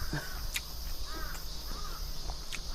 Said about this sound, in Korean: 까마귀야?